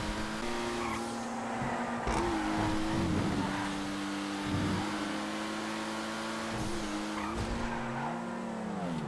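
Wagner race cars in the FiveM video game, engines droning steadily at high revs with repeated tire squeals and skids as they corner in an endurance race, loud and continuous with no talk.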